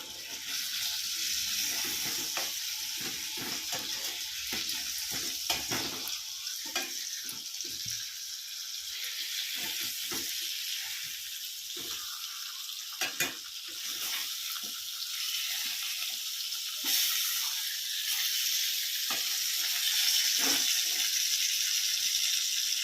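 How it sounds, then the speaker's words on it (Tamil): Pink perch fish fry sizzles steadily in a pan over a slow flame, a bright continuous crackling hiss close by with small pops and no talk. "நல்லா திருப்பி போட்டு ஃபிஷ்ஷை வந்து ஃப்ரை பண்ணணும்."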